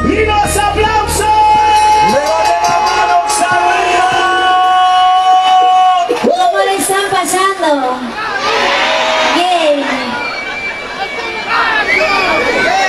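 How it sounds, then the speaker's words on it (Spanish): A crowd at a live Generación Juvenil concert in Villa Celina, Buenos Aires, cheers, whoops and shouts loudly and close by. The noise surges in swelling waves of excited voices, with children's yells mixed in. "Y los aplausos."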